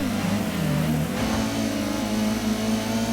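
A car engine in the PlayStation racing game Gran Turismo blips and revs through a downshift, a steady loud drone whose pitch dips and then climbs again.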